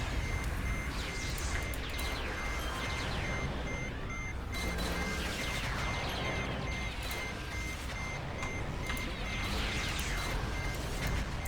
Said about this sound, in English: I think I'm going to hit this thing now. It's beeping.